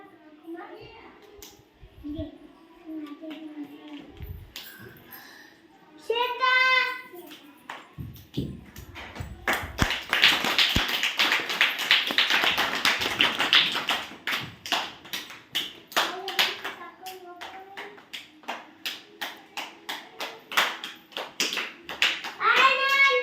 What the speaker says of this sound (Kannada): ಹಾಂ ಗುಡ್ ಚಪ್ಪಾಳೆ ಹಾಕ್ರಿ ಅಂತ ಅನ್ಬೇಕಪ್ಪ